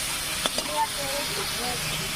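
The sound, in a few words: spices frying in mustard oil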